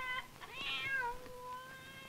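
Cats meow around a farmhouse, a drawn-out high mewing call with a rising and falling pitch, fairly faint, over a soft outdoor background with no talking.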